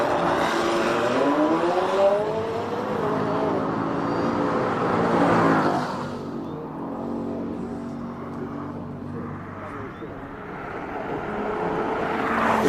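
A McLaren 720S with a 4-litre twin-turbo V8 races up a hillclimb course, its loud engine note rising through the gears, easing briefly, then building again as it passes nearby; no voices are heard.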